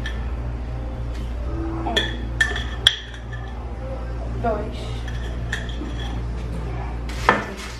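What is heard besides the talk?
spoon mixing sugar in a bowl for sweet popcorn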